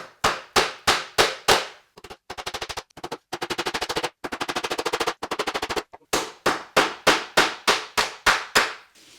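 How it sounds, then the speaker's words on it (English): Hammer blows driving nails to dent an aluminium stair rod bar, ringing out in close, loud sharp strikes: spaced single hits, then fast rattling runs of rapid blows, then steady evenly timed hits again, with no talking. "Dent the bar."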